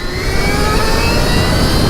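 Stark Varg electric motorcycle, a street-legal build set to 80 horsepower, accelerating hard: a loud, steady high-pitched motor whine with rising tonal lines over rushing wind and road noise, with no voices.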